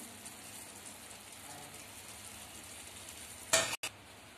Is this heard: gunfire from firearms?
no